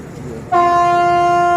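Express train 85 departs Bang Sue Junction station in Thailand with a loud, steady horn blast that begins abruptly after a brief murmur of station background and holds unbroken to the end.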